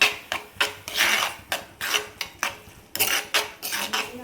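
A spoon stirs ground paste into cooked beetroot in a pan, making about a dozen rhythmic scraping, rubbing strokes against the metal, close and fairly loud with brief gaps between them.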